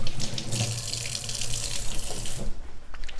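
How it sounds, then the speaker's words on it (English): A kitchen tap runs into a sink during handwashing, a steady splashing hiss close by for most of the stretch, then thinning as the flow is shut off near the end. "I need to wash my hands again."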